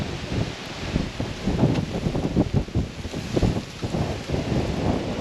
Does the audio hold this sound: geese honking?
no